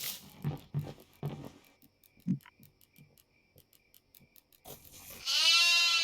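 A goat in a video game gives a long wavering bleat near the end, loud and close, after quieter stretches with a few faint game sounds and a steady insect-like chirping in the background.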